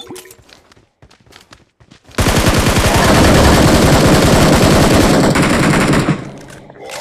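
Rapid automatic gunfire in the battle royale game BGMI bursts in after a quiet stretch with faint sounds, a dense loud volley lasting about four seconds before tapering off.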